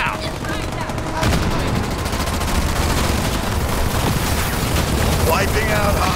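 Battle in Halo Wars 2 with grenades and gunfire: dense rapid rattling fire and blasts erupting loudly after a brief lead-in, continuing in a constant crackling barrage, with game voices speaking beneath.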